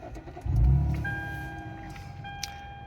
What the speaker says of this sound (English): So we're going to turn the car on here.